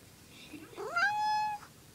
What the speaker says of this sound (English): The kitty cat.